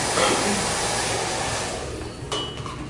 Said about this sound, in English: I'm going to take my blow dryer on medium.